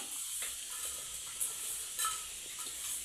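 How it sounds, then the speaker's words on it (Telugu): Green chillies frying in a pan with sliced onions for a raw tamarind stew, a steady soft sizzle with faint stirring and a couple of brief louder crackles, close and continuous with no talk. "ఇవి 2 పచ్చిమిర్చి ఇవి కూడా వేసేసుకొని మెప్పేసుకుందాము"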